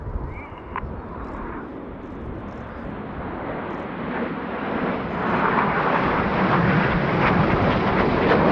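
A Panavia Tornado jet flies at the RIAT airshow, a broad, steadily swelling engine roar that builds from moderate to loud as it approaches, with a few faint background sounds early on.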